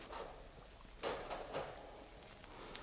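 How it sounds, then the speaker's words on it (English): A puppy's crate door swinging shut, heard as a couple of soft clattering knocks close by in a quiet room, with no talking. "start closing the crate door while he's not paying attention"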